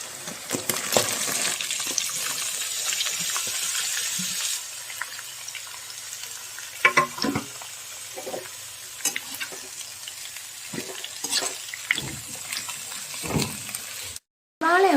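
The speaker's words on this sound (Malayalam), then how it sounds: "ഇതിലേക്ക് ആവശ്യമായ സവാള ഇടുക" Onions frying in a pan for chicken curry, a continuous sizzle with intermittent clinks and scrapes of a spoon, while someone speaks in between; the sound cuts off abruptly near the end.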